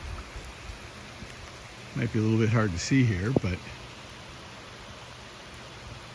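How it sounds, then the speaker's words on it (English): Steady rain falls on pasture as a soft, even hiss throughout, while someone speaks briefly over it in the middle. "Well, finally, we've got some decent rain falling."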